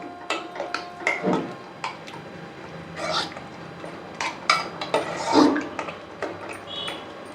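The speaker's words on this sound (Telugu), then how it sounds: "కొద్దిగా స్టవ్ వెలిగించేసి ఒకసారి బాగా కలిపేసుకుందాము" Stirring a milk-based sweet prasadam, chakkera pongali, in a pan on a lit stove: soft scraping and clinking of a spoon against the pan in irregular strokes, close and moderately quiet, with no talk.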